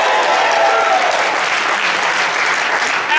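Steady, loud audience applause filling a lecture hall on a Buick discovery tour, dense and continuous from start to finish with no break, the clapping of many hands blending into a broad wash of sound.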